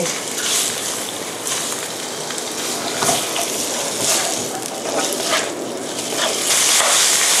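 Pork belly and red curry paste stir-frying in a pan sizzle loudly and steadily, with repeated scraping and clattering stirs of a utensil against the pan through the clip.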